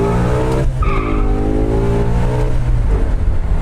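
An Audi RS6 with about 720 hp accelerates hard and loud, its engine note rising in pitch through the gears with a brief dip at a shift, close and steady with no talk over it.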